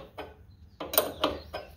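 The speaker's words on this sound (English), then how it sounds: "now we're going to slowly tighten this up until we get this bulge to just pop out past the edge of the metal washer" Nut being tightened on a shock absorber of a C4 Corvette, giving a few short mechanical ratcheting clicks in separate bursts, close and fairly quiet.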